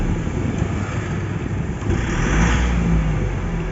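Isuzu truck diesel engine with a 4JJ1 motor, troubled by back fuel pressure and hard starting, runs steadily and revs slightly higher midway, a loud, close, continuous low rumble with no talking.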